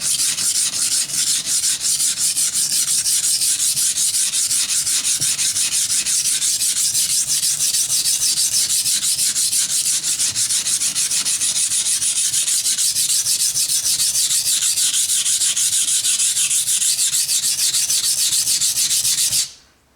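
A knife ground on a simple sharpening stone makes a steady, loud, rhythmic rasping scrape of fast back-and-forth strokes, close and unbroken for about twenty seconds before stopping abruptly.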